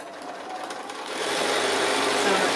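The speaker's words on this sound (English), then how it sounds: "I'm just finishing up quilting the lines." A sewing machine stitches straight quilting lines through a hanging pocket project, a steady close mechanical whir with rapid needle chatter that builds slightly and holds for the whole stretch, with no talking.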